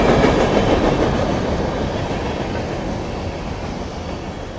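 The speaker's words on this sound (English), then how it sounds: "Heading north at Crofton, Kentucky on the CSX Henderson Subdivision." A CSX freight train heading north through Crofton, Kentucky on the Henderson Subdivision rolls past close and loud, its wheels clattering steadily over the rails before slowly easing off.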